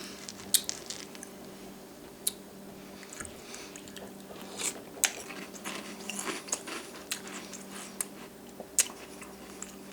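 Crunchy cereal made to taste like a Wendy's Frosty is chewed close up, a run of soft wet crunches and squishy bites with scattered sharper cracks and no talking.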